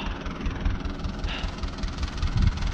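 A tractor pulling a bale trailer loaded with hay, its brake stuck on, gives a steady loud engine drone with rhythmic knocking and vibration, close and continuous outdoors.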